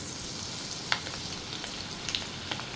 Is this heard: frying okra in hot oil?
yes